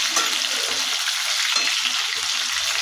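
Meat frying in a pan with a constant bright sizzle and occasional stirring scrapes, close and steady throughout.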